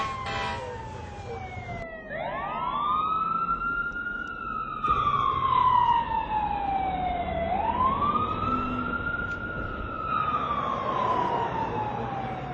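Emergency vehicle siren wailing in slow rising and falling sweeps, loud and nearby, over road traffic rumble, with a brief horn-like blast near the start and no talking.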